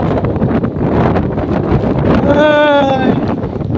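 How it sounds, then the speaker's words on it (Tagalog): Strong wind buffets the microphone at a seaside fishing spot, a steady loud roar with wet road and waves nearby, and a voice briefly heard through it. "lakas ng hangin ngayon."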